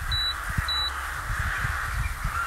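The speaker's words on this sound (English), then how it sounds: "I think the crows they heard what I said, didn't they? They're getting a bit louder." Crows caw steadily in the background at a barbecue cooking session, their harsh calls repeating over a continuous hum and two short high electronic beeps.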